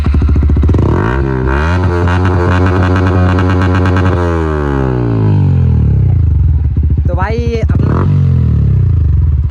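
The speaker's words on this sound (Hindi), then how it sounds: "तो भाई अपना बाइक का जो साउंड है गाइस कैसा लगा भाई" A motorcycle on a long ride in Chhattisgarh revs loud and close, its engine note climbing and then easing off, with another quick rev near the end.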